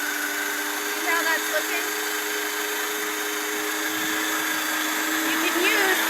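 A meat grinder runs steadily while grinding raw dog food, its continuous motor whine and buzz loud and close, with a brief spoken remark over it.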